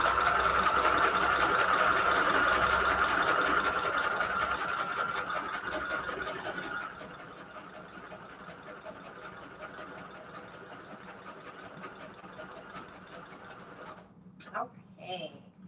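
A sewing machine stitching zigzag runs fast and steady, then slows to a softer mechanical hum; a brief voice cuts in near the end.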